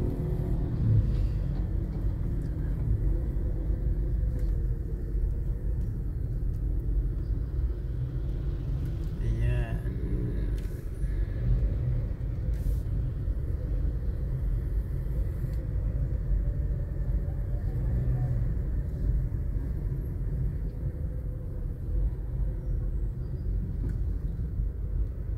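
Morning road traffic in Mandaluyong rumbles steadily as a constant low drone of passing cars and engines, with a voice talking over it.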